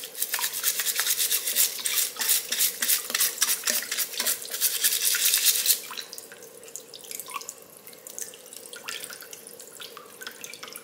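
A brush scrubs the shells and legs of raw blue crabs under running water, a rapid, rhythmic bristly scratching up close that stops partway through, leaving softer trickling, dripping and occasional light knocks.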